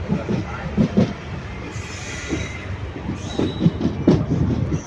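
A passenger train running from Nagapattinam to Karaikal clatters along the rails in a steady clickety-clack rhythm, with recurring wheel thumps and faint high metallic squeals, heard up close from on board.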